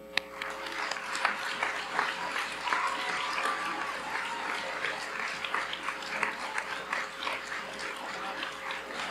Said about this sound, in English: We'll go ahead and clap for this group.